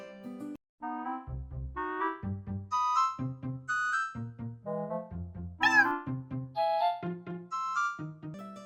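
A cat meows over and over, a long series of close, clear, varied mews with short pauses between them, alone without talk.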